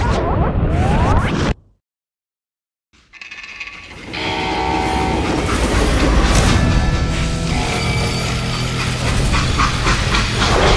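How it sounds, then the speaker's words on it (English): Steam-era train in the Wild West shooter Call of Juarez: Gunslinger, a loud, continuous rumble and clatter of rolling wagons that cuts out briefly, then returns with metallic screeching and whooshing rushes. "How'd they stop this train in the first place?"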